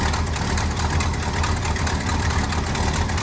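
A 1968 Ford Galaxie convertible's 390 V8 engine idles steadily with a loud, even rumble that holds constant throughout, no voices.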